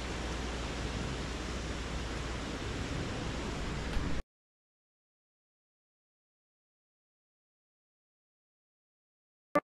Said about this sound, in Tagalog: Narinig niyo ba yung simoy ng dagat?